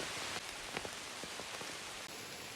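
Steady rain falls through a forest during a wet-weather mushroom hunt, a dense continuous patter with scattered brighter drops hitting leaves close by, with no voices.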